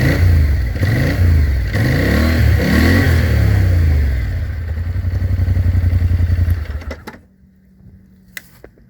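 A Polaris Sportsman 1000 High Lifter ATV revs loudly and close through its rusty stock muffler, settling into a rapid idle before the engine shuts off, leaving near silence with faint clicks.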